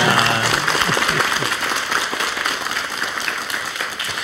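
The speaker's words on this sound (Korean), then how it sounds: "다시 한번 박수로 감사 인사를 전해드리고 싶습니다." A studio audience at a Korean morning talk show lecture applauds steadily after a talk, the clapping dense and continuous, with faint speech at the start.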